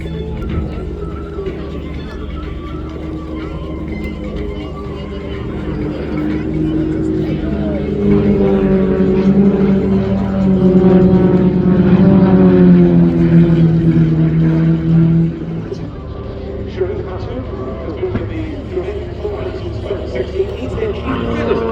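Jet aerobatic display aircraft, F-5s of the Royal Jordanian Falcons, roaring in formation at an air show, a continuous loud engine drone swelling then easing, with a commentator talking over it.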